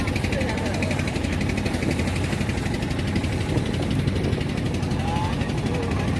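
Motorboats pass on the Ganges at Varanasi, their engines making a loud, continuous droning rumble with a steady pulsing throb that stays close and unbroken throughout.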